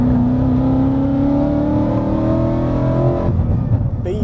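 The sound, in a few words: Ford Mustang GT engine revving in loud exhaust mode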